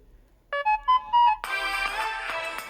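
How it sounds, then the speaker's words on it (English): A Samsung Galaxy Gio phone plays its notification ringtone: a short rising run of bright electronic tones, then a fuller chime that rings out and fades, loud and close in a quiet room. "Notification ringtone?"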